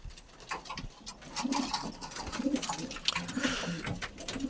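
Soft, repeated low cooing of pigeons in a coop nearby, with rustling and faint scratching around them.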